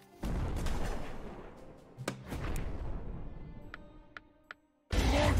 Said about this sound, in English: We're not done with our previous barrage.